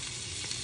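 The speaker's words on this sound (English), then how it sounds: "Listen to that nice sizzle." Steady, close hiss and crackle of Brussels sprouts frying in a hot pan, continuous with no talking.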